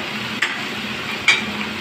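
Chopped onion, ginger and garlic fry in a pan for keema, giving a soft steady sizzle with two brief clinks of a spoon against the pot, close and without talk.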